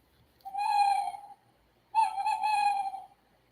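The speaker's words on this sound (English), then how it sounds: "don't tickle the snowy owl. You might make it hoot." A snowy owl toy book hoots when tickled, giving two electronic hoots. Each is a sustained, tonal, fairly clear call lasting nearly a second, separated by a short pause, heard alone at close range.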